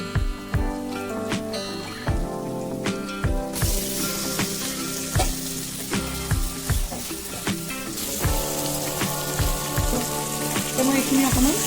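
Marinated local chicken fries in a hot pan with a dense continuous sizzle, punctuated by regular sharp clanks and scrapes of a spoon stirring the meat, loud and close.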